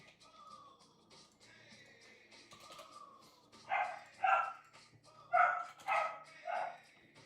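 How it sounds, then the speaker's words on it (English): Dog barking at a house while a maintenance crew works outside, five loud sharp barks in two pairs and a single, following quieter whines and a faint background hum. "Sorry about the dog barking."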